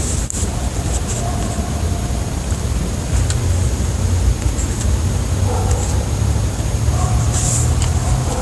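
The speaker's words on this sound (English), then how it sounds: "That's a car." A car passes at night around 3 a.m. in northwest Georgia, heard as a continuous low rumble that swells slightly in the middle and later stretches, set against a steady broadband background hiss.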